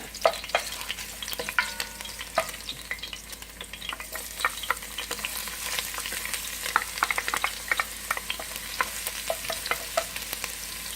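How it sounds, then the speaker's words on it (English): Garlic frying in oil in a pan for chicken adobo, a steady crackling sizzle with frequent clicks and scrapes of stirring throughout, close and moderately loud, no talking. "Now we're going to add on the garlic."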